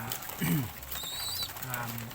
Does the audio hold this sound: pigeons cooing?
yes